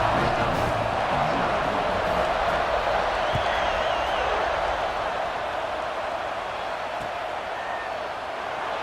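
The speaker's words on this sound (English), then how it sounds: "They're set to kick it off, and this crowd now ready to get behind them" Big stadium crowd at a Wisconsin college football game roars steadily before the kickoff after an extra point, a dense sustained wall of cheering noise with scattered whoops, loud and continuous throughout.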